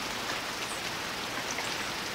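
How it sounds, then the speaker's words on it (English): Wet, drizzly winter rain falling in an urban backyard, a soft, steady hiss of fine drops pattering on surfaces, fairly quiet and unbroken, with no voices. "drizzly rain at the end of the 2017 year."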